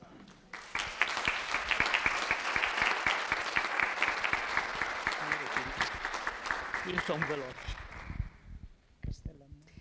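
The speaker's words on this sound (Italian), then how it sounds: "autori Sandra Baruzzi e Maurizio Bertodatto meritano un applauso" An audience at a book presentation about Castellamonte ceramics in Vidracco breaks into sustained applause, loud dense clapping that tapers off toward the end as a voice starts speaking.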